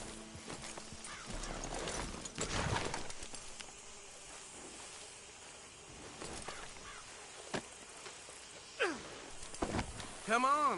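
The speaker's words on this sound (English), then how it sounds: "Load Anders onto the back of your horse there, and we'll take him to Sheriff Gray." A horse snorts and whinnies in a video game, with a few hoof sounds and faint outdoor ambience; a rising neigh stands out near the end.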